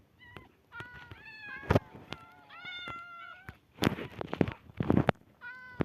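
Several cats meowing in the Minecraft video game, repeated short mews coming one after another in irregular bursts, close and clear, with no talk over them.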